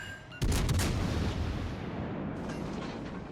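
Battleship main guns in World of Warships Legends fire a heavy salvo, a sudden loud boom with a few quick overlapping blasts, followed by a long rumbling roar that slowly fades.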